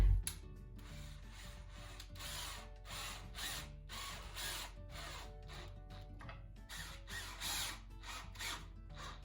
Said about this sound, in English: now it's just a matter of screwing them in